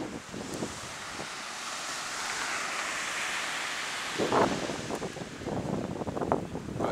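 Wind gusting outdoors at a holiday spot where a popsicle-stick boomerang is thrown, a steady broadband rush buffeting the microphone, with louder bursts of rustling and buffeting toward the end.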